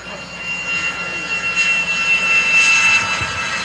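An L-39 Albatros jet at an air fest, heard during landing as a steady, loud broadband engine rush with a thin high whine running through it, continuous and fairly close, with no voices over it.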